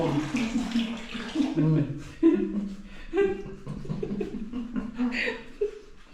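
Water runs steadily from a turned bathroom tap in a home, splashing continuously while people talk and laugh over it.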